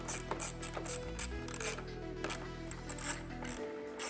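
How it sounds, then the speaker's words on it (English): A ratchet fitted with a 7mm socket tightens fog light bolts on a Jeep JL Wrangler, making quick, close clicking and whirring over a low mechanical hum. "get them snugged up using a 7mm socket that we just used"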